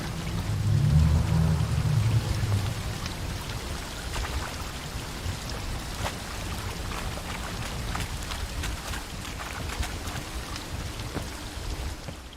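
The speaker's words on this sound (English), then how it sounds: "A waterfall flowing upwards?" Rushing water from a waterfall in The Witcher 3: Wild Hunt, a steady broadband roar that swells louder at the start and then settles into a constant even flow with scattered splashy crackles.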